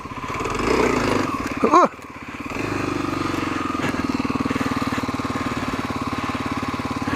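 A Kawasaki KLX250SF dual-sport motorcycle engine runs while the bike is being parked. A brief rising sweep is followed by a steady, close, pulsing idle.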